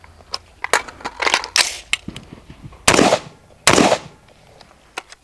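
Rifle shots fired during speed transition drills, a rapid string of sharp cracks with irregular spacing, two louder, longer blasts standing out near the end.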